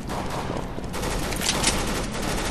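Rapid automatic gunfire rattles continuously in a Counter-Strike: Global Offensive match, dense and loud for the whole stretch.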